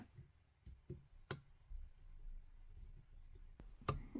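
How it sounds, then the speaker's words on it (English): Faint, sparse clicks from the pins of an ASSA Twin V10 lock being picked, a few isolated ticks spread across a quiet background with one sharper click near the end. "And you can start hearing those clicks again."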